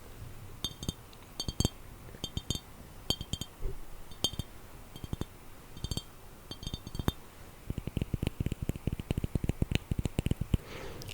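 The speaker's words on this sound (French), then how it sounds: "C'est un bocal en verre." A decorative glass jar with a cork stopper, filled with dried flowers, is handled up close, giving a steady run of quiet taps, light clinks and small rattles with no talking.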